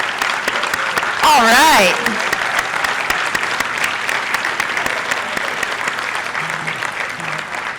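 A graduation audience applauds the inaugural Spark Scholarship winner with sustained, dense clapping across the room, while a voice speaks briefly over it and a few whoops rise near the start.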